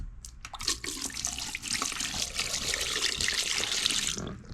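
Enzyme drain cleaner is poured into a sink drain in a house with a drain fly infestation, a close, steady liquid gurgle and trickle lasting several seconds before tapering off.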